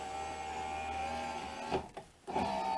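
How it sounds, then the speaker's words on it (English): An electric motor drives the window of a 2014 Chevy Cruze fitted with a new regulator and motor, a steady mechanical whir that stops briefly and restarts, close and fairly quiet. "just test it, make sure the window goes up and down"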